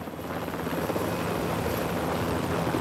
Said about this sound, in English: The helicopter made a run for it.